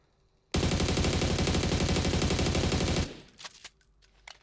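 Sustained automatic gunfire from a weapon in PUBG on console, fired while crouching with heavy recoil, a loud continuous burst of about two and a half seconds that cuts off sharply, followed by faint scattered clicks and shuffling.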